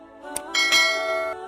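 A notification bell chime rings bright and clear, with a light ding, then a sustained ringing tone that fades out over about a second, with no talk.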